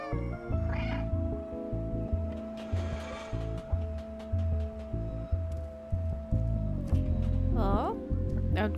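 A cat in the video game Stray meows a few times over droning, steady game music, with a brief rising meow near the end.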